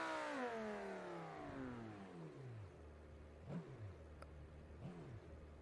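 A damaged car engine in BeamNG Drive winds down from a high whine to a low, faint idle, then gives two brief revving blips that rise and fall again.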